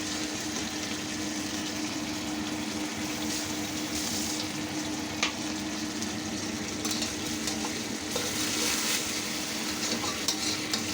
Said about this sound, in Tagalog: hintayin natin na kumulo ng kumulo ng kumulo yan